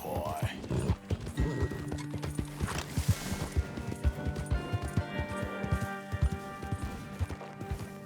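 A horse in the game Red Dead Redemption 2 walks with steady, close clip-clopping hooves, letting out a whinny early on, while someone speaks over the hoofbeats.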